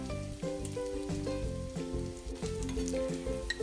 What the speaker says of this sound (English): I'm adding 1 onion. Fry it till it become golden brown.